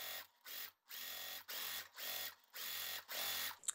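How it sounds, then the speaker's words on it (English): Sewing machine stitching a pinned quilt block in short mechanical bursts, about six runs of rapid whirring separated by brief pauses, close and steady. "So now I'm going to sew."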